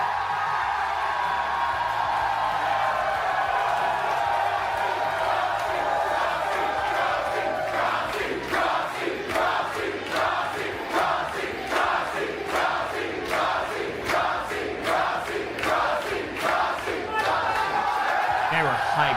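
A hyped wrestling crowd in Chicago roars, then breaks into loud rhythmic chanting in steady pulses, close and sustained.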